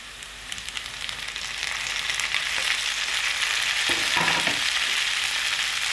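Tomatoes fry with onions in a pan, giving a steady bright sizzle throughout, with a couple of brief stirring scrapes near the end and no talk.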